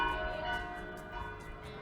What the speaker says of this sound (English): it's ringing bells at 10:15